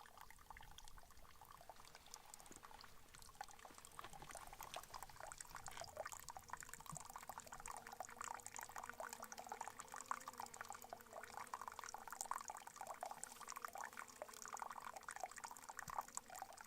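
Natural spring water pours from a pipe fed by a bulkhead at a desert spring, a soft, steady trickling and splashing that continues without a break, faint and at some distance.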